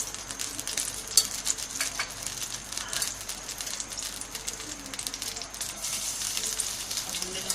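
Oil sizzles and crackles steadily in a pan for a chicken lasagna, a soft continuous frying hiss with faint stirring clicks and occasional low background sounds.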